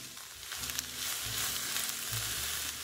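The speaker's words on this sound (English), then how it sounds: "I'll add in my onions and garlic, and I'll just saute this up until the onions are soft and translucent." Onions, garlic, mushrooms and spinach sautéing in olive oil give off a constant bright sizzle, with low clunks of the pan or utensil partway through.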